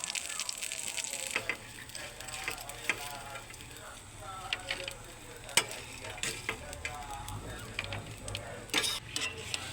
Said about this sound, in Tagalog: isasangag ko na po itong ating dilis